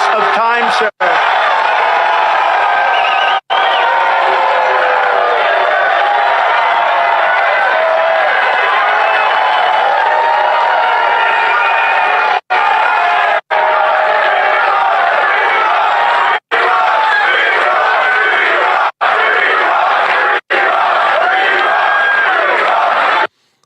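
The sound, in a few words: crowd cheering at a political speech, played recording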